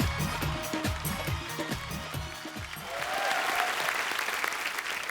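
A studio audience at a comedy talk show claps to welcome a film director, with a voice talking over the first few seconds of applause before the clapping swells louder and carries on alone.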